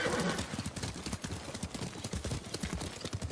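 Rapid, rhythmic hoofbeats of several horses galloping together in the video game Ghost of Tsushima, steady and fairly loud throughout.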